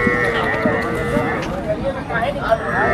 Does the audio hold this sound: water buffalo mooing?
yes